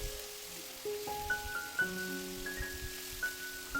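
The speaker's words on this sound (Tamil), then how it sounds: "இந்த பேனில் எண்ணெய் சூடாயிருச்சு, அதில் பொரிக்கிற மீனையும் போட்டு விட்டுறலாம்." Fish frying in hot oil in a pan, a soft, steady sizzle with occasional light crackles under sustained tonal background music.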